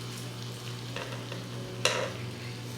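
Patties fry in a pan with a steady soft sizzle, broken by a few light stirring or pressing scrapes and one sharper clatter, with no talking.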